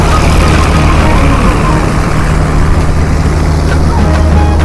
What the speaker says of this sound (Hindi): अपनी सोयाबीन निकल रही है हार्वेस्टर से